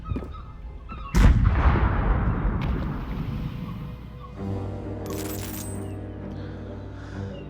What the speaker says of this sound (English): Fire cannon.